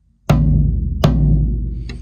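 An undampened drum is struck twice, each hit booming and ringing out with a long sustained decay, followed by a lighter third tap, close and without talking.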